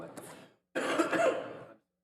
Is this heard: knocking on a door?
no